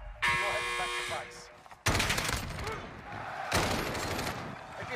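Gunfire in the video game Warzone comes in sharp bursts of rapid shots, loud and close, separated by short lulls, while a voice talks over the action.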